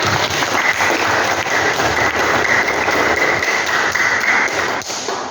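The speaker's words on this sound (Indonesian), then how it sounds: "Tepuk tangan buat Azam." A classroom breaks into steady, dense applause for a student, many hands clapping continuously at close range for several seconds.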